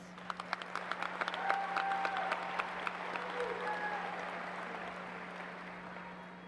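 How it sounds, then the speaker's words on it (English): Audience applause at a high school graduation ceremony, starting with scattered claps and swelling into a sustained, fairly distant round that holds steady and slowly fades, with a steady low hum running underneath. "Can we get a round of applause for all these accomplished performers?"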